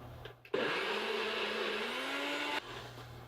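A NutriBullet blender whirs loudly for about two seconds, blending hummus with olive oil in a tiny house kitchen, its motor pitch rising slightly as the mixture smooths before cutting off abruptly.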